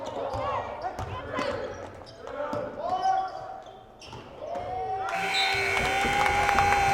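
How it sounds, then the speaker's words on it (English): Gymnasium crowd at a varsity boys' basketball game chanting a countdown at the end of a quarter, a mass of voices rising with a buzzer-like tone near the end, over squeaks and bounces on the court. "You can hear the crowd counting it down."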